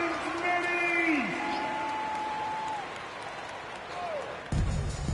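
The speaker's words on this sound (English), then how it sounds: "Another round of applause for your Pistons Minis." Simulated arena crowd in the NBA 2K24 basketball game gives sustained applause and cheering under an announcer's voice, with whistling tones sliding across the noise and a brief thump near the end.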